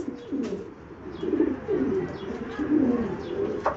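A pigeon coos repeatedly while held in someone's hands, its low throaty calls rising and falling close by in a steady series, with faint rustling in the background.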